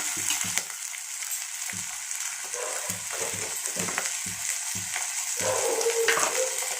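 Cluster beans frying in oil in a pan for a curry, giving a steady, close hiss and crackle of sizzling throughout with a few stirring scrapes and no talking.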